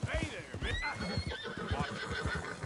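Horse in Red Dead Redemption 2 whinnies loudly over close, steady hoof clip-clops, with someone talking throughout.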